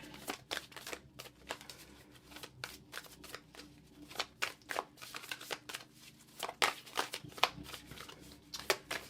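Cards being shuffled in quick bursts of crisp riffling clicks, close and steady, with brief pauses between shuffles and no talking.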